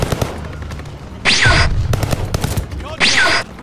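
The Atomic Automaton gun fires in a video game in two loud, rapid bursts about a second and a half apart, over busy game noise.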